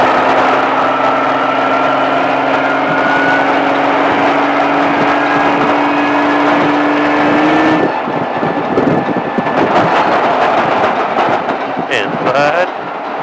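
A Baja off-road vehicle on a driving course drones loudly at a steady rising pitch, then breaks into rougher, bumpier engine noise as it powers on, with a voice talking over it.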